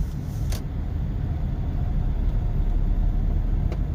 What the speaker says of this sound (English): There are cars out there now.